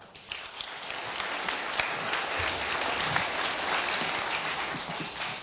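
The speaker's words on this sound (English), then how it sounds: "Let's give him a big round of applause." A crowd applauds steadily for a startup pitch presenter at a venture fund finals event, a dense, sustained wash of clapping throughout with no talk over it.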